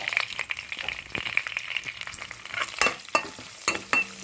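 Green chillies and cumin seeds frying in hot oil in a pan, a close crackling sizzle with scattered pops and a few sharp scrapes from stirring, no voices present.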